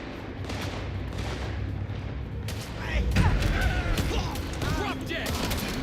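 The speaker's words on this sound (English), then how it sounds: "Why are you shooting me?" Gunfire in an action video game, with scattered booming shots and crackling bursts piling up midway over a steady muddy backdrop, with voices talking underneath.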